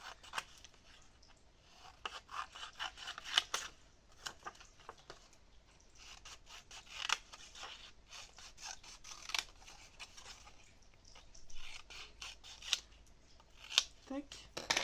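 Paper is cut by hand with scissors for a scrapbook coffee cup decoration, a close, continuous series of crisp snips and rustles with uneven rhythm, with soft speech in places.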